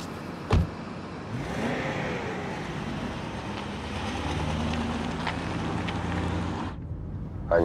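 A new executive-class car drives along with a steady engine and road rumble, a thump at the start, and a rising whoosh of passing air. The sound cuts away abruptly near the end.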